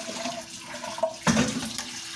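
Tap water runs into a sink while something is rinsed during the cooking of a ham and sweet potato stew, a short steady splashing rush that swells briefly midway.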